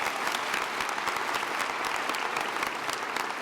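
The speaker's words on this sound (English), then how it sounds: "Let's give them a round of applause." An audience bursts into steady, dense applause at a ceremony honoring a national superintendent of the year, the clapping sustained and even across the whole stretch with a faint crowd murmur beneath.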